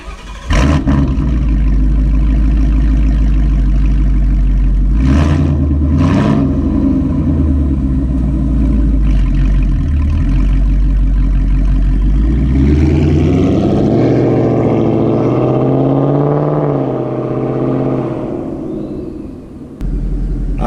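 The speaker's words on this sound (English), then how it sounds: "With this exhaust, when you're on it, it's loud, but when you're cruising, there's no drone" A 2017 Ford Mustang GT with a Corsa Extreme catback exhaust roars loudly, V8 revs rising and falling through accelerations, close and powerful, fading toward the end.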